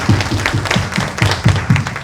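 A few people at a public forum clap in a slow, even rhythm, about eight distinct close claps in two seconds with a faint murmur beneath.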